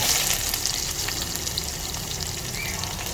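Garlic, ginger and onion sautéing in hot oil, a steady close hissing sizzle with light crackle that holds evenly throughout, no talking.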